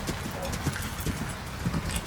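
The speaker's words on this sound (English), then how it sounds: "So just a nice sort of rolling canter." Rhythmic hoofbeats of a horse moving at a steady rolling pace, with soft talking in the background.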